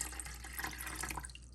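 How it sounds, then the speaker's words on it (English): Two cups of water poured into a pot for boiling grits, a soft splashing trickle heard close but quiet over a low steady hum. "These are my 2 cups of water,"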